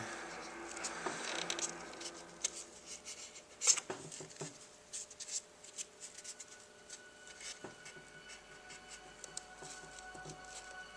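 A paper towel rubs and wipes thermal compound off an AMD FX-8120 Bulldozer CPU, making soft, close, irregular scrubbing and rustling strokes with small taps, quiet and continuous.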